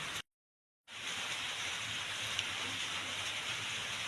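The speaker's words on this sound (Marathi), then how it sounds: "पाऊस आहे ना रोज चालू आहे सकाळपासून" Steady rain falls near a temple in the morning, a continuous dense hiss that drops out briefly near the start and then runs on evenly, with no voices.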